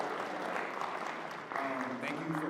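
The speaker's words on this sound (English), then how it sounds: "Give a round of applause for yourselves." Applause from students at a biomedical engineering STEM showcase, a moderate patter of clapping that continues while a voice talks over it in the second half.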